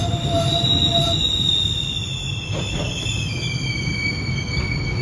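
A double-decker GO commuter train running between Ajax and Toronto, wheels squealing in long high sustained tones over a loud rumbling roar, heard from on board.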